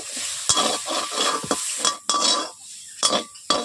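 Bitter gourd fries in a pan with a sizzle and repeated sharp metallic scrapes and clinks of a utensil stirring, close and fairly loud.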